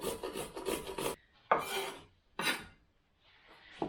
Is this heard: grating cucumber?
yes